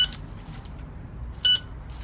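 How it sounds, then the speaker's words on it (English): A Maplin N87KA metal detector gives two short, clear electronic beeps, one at the start and one near the end, over a low outdoor background hum. "I think every time you move it, it just beeps"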